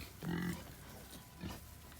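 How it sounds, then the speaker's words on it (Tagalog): An angry mother pig in a farm pen gives a low, rough grunt, then a second fainter grunt a second later, against quiet background noise. "Hmm, galit po ang Mama Pig."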